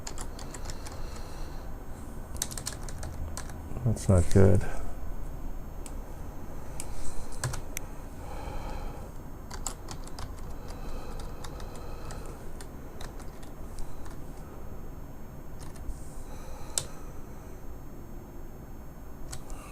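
Keys clatter on a computer keyboard in rapid, uneven bursts while a streaming server is being set up, steady and close, with a brief spoken remark partway through.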